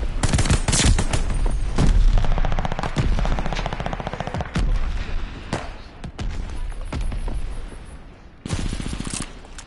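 Rapid automatic gunfire from the video game Call of Duty Vanguard fills the scene in loud bursts and scattered single shots, dense at first and thinning toward the end, with no voices.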